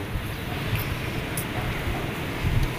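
Steady, heavy wind rumble buffets the microphone throughout, a low roaring gust with no pauses.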